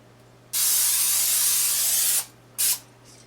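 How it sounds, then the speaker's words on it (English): Cooking spray hisses into a deep-dish 9 by 13 baking pan in one long, close burst, followed by a brief second spurt. "lightly coated with some cooking spray"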